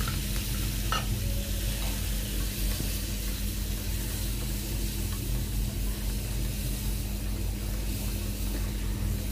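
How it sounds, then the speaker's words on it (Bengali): Prawns fry in oil in a wok, giving a steady close sizzle and hiss with occasional light scraping from stirring, continuous and fairly quiet throughout. "এই তো চিংড়ি মাছগুলো একটু ভেজে নিচ্ছি"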